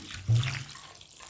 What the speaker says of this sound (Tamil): இப்போ அரை லிட்ரு ஊற்றிக்கிறேன்